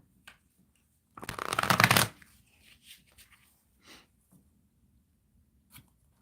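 Tarot clarifier cards being shuffled, a single brisk riffle about a second long, close and fairly loud, followed by a few faint soft taps and rustles in a quiet room.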